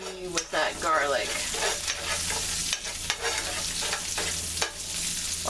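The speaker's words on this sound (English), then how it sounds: "Now that my ghee is heating up, I'm going to add about 2 tablespoons of minced garlic." About two tablespoons of minced garlic crackle in hot ghee, a loud, bright sizzle right up close with repeated sharp stirring scrapes and clatter against the pan throughout.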